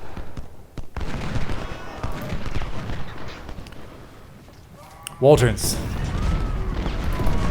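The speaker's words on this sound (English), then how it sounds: "Artillery, please do not waste your ammunition on skirmishers, shoot at larger units." Cannon and musket volleys crackle and boom across a Civil War battlefield in Ultimate General: Civil War, a steady rumble of distant shots with a sharper burst midway, under a voice speaking.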